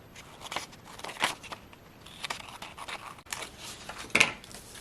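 Scissors cutting paper for a handmade envelope project, quiet snips and crisp rustles spread unevenly across a few seconds, with one louder snip near the end and no talking.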